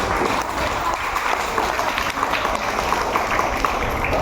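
A room full of children claps steadily and energetically, a dense continuous patter of hands with some chatter mixed in.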